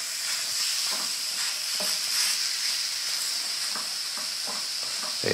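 Spicy sausage meat browns in a hot pan, giving a continuous bright sizzle and hiss, broken by soft scraping stirs as the meat is chopped and moved about.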